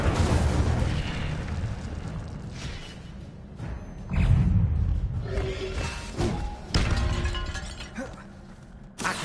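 Incendio fire spell bursts mixed with other spell blasts during Hogwarts Legacy combat: a string of loud whooshing and shattering impacts over roughly nine seconds, rising and falling in intensity with brief quieter gaps.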